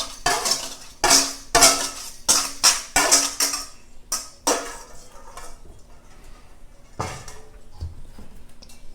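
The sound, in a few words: combining wet ingredients into dry ingredients in a bowl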